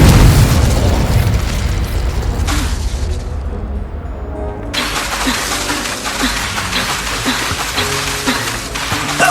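Incendio fire spell blasts crash and boom through combat in Hogwarts Legacy on PC, loud and continuous with layered explosive bursts over a dense rumbling game soundscape.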